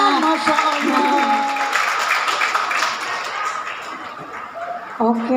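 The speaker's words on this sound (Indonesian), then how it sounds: "Tepuk tangan." An audience at a Betawi cultural festival pageant claps in a dense burst of applause with cheering voices and a little laughter, fading slightly before talk resumes.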